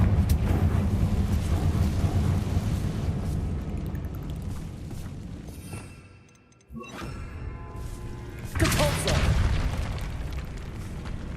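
Confringo fire spell cast in the game Hogwarts Legacy, a loud booming blast with a heavy low rumble that fills most of the stretch, dips briefly, then surges again with a second burst.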